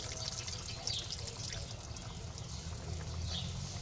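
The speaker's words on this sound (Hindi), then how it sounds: "अब इसमें हम आधा गिलास पानी ऐड करेंगे" Half a glass of water poured into a pan of methi aloo (fenugreek and potato) being cooked, a steady close liquid sizzle and splash running continuously for a few seconds.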